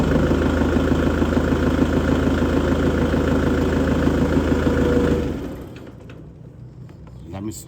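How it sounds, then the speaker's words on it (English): A Kubota tractor engine idles with a steady, rumbling drone, then cuts off, leaving a few quiet clicks and rattles. "I'll start the tractor."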